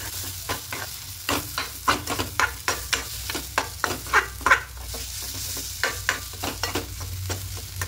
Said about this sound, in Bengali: এইভাবে করে নাড়তে থাকবো, তাহলে এটা পুরটা তৈরি হয়ে যাবে।